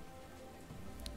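Soft, steady rain patters across surfaces in the game XING: The Land Beyond, a faint continuous hiss of falling drops with no talk over it.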